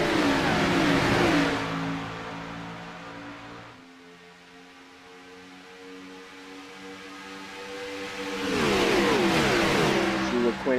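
NASCAR Cup race cars at Daytona in iRacing roar past in a pack, loud engines revving and dopplering at the start, dropping to a distant drone, then swelling again as more cars sweep by.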